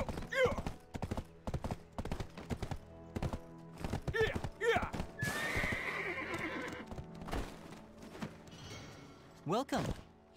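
Horses in the online game Black Desert Online neigh in several loud whinnies amid rhythmic clip-clop hooves and a short airy burst, close and clear, with a few game sounds between calls.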